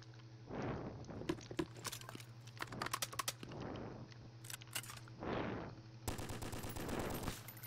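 Repeated gunshots echo in a Roblox game set in Afghanistan's Kandahar, coming as sharp bursts and single cracks over a faint steady hum, with rising whooshes between volleys.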